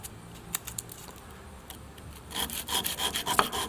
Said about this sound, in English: So I'm going to take a little bit of sandpaper